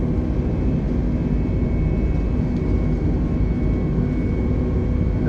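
Airbus A320 jet engines spooling at takeoff thrust in a flight simulator, a steady, loud, broadband roar with a low rumble that holds constant throughout, alone without any voices.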